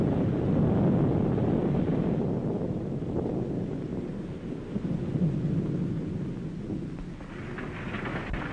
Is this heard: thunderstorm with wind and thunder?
yes